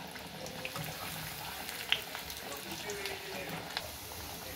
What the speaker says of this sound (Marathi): दोन्ही साइड्स व्यवस्थित तेलामध्ये तळून घ्यायच्या